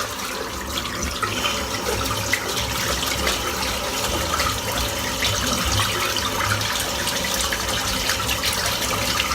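Shaving brush rinsed out under a running tap in a bathroom sink, a steady loud hiss and splash of flowing water with no talking.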